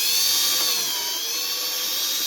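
Drill boring a hole in the plastic housing of a 50cc scooter headlight, a high, thin, continuous whine held steady and close for a couple of seconds, with no talking.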